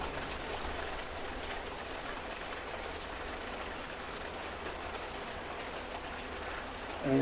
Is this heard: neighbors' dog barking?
no